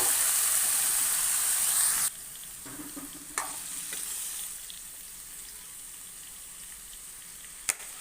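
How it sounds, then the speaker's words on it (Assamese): Boiled chickpeas and potatoes tipped into a hot frying pan in an Assamese kitchen, a loud broadband sizzle that drops sharply after two seconds to a quieter steady fry, with a few faint clinks of a utensil. "আৰু এতিয়া মই এইখিনি ইয়াত ঢালি দিছোঁ।"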